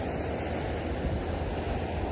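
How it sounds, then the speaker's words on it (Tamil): Steady wind blowing on the beach at Kanyakumari, a constant loud rushing roar mixed with surf, buffeting the microphone without a break and with no voices. "அதான் காத்து அடிக்கும்."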